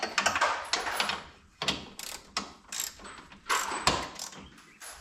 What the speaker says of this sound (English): They're inside of a tube, so we got a ratchet for the back side.